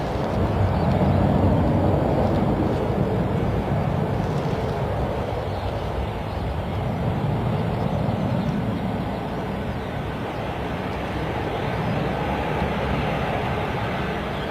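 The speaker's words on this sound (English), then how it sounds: "737 Max 8 from the sound of things" A Boeing 737 Max 8 airliner waits and taxis at Stansted Airport, its engines making a loud, sustained roar and rumble that holds steady throughout with no talk.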